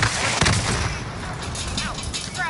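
Rapid gunfire bursts in a PS4 shooter, dense and loud, with a player's voice talking over parts of it.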